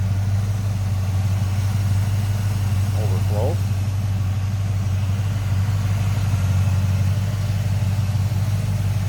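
A 350 HO crate engine idles in a 1964 Chevrolet El Camino custom build, a steady low rumble running throughout while someone talks over it.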